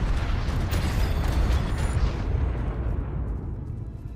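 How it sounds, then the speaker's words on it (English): A dense rumbling roar of distant explosions in the video game Ark, continuous and heavy for several seconds before fading out, with no talking. "hearing the explosions yet again"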